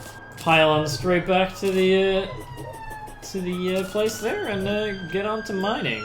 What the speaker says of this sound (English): apologies if you can hear that ambulance in the background